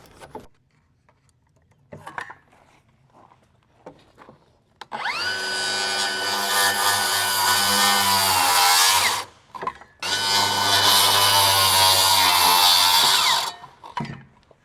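A power saw cuts a window opening through an old building wall in two long, loud bursts separated by a brief pause, with quieter handling noises before and after.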